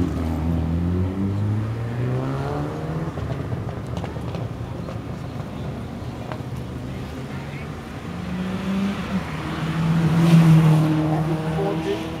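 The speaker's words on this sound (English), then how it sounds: "Is a Group N car, and that's a Subaru Group N." A Subaru Group N rally car runs a street stage at the Circuit of Ireland Rally in Lisburn, its engine droning steadily, then swelling louder as it passes close near the end, with a commentator talking over it.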